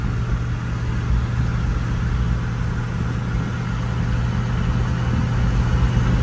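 A 1975 Ford Maverick cruising at about 55 mph, its engine giving a steady, close, mid-pitched drone with road and wind rumble that holds evenly throughout, with no talking.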